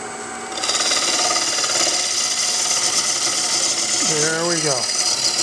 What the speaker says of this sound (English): Scrape cut until I get in there a ways.